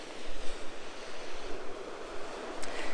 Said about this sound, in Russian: очень шумно от волн и от ветра